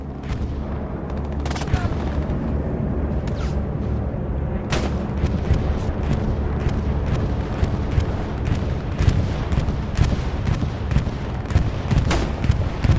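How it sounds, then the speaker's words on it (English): A German bombing run in a video game: heavy, continuous rumbling explosions with scattered bursts of gunfire, loud and unbroken from start to finish. "that sounds like a German bombing run"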